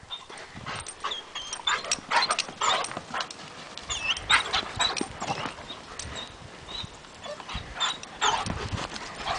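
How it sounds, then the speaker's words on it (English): A dog plays keep-away with a toy alongside another dog at an animal shelter, heard as busy scuffling, rapid paw patter and rustling bursts across the whole stretch, with no talking. "She's playing keep away with the toy with Cooper."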